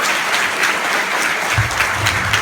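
Dense applause from a crowd of around 100 people at a seminar, steady and loud throughout, with a low rumble joining near the end.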